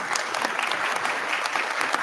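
Applause at a congressional committee hearing honoring the Joint Committee on Taxation's chief of staff, a dense, steady patter of many hands clapping throughout, fairly close and without speech.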